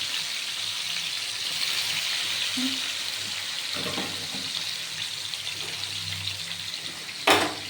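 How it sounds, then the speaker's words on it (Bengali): Katla fish pieces frying in hot oil, a continuous bubbling sizzle under faint background noises, with a brief louder clatter near the end. "মাছটা খুব সুন্দর করে দুটি ভাজা হবে"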